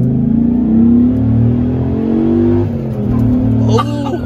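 A V10 engine in a six-speed truck revs loud and close, holding a rising, smooth drone before easing off, with a short burst of speech near the end.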